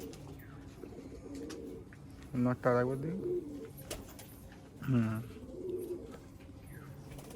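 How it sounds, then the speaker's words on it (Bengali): Malwai pigeons in a sale loft near Dhamua station give two distinct low cooing calls amid a steady hum, while someone talks nearby. "পায়রাগুলো দেখুন খুব সুন্দর পায়রা"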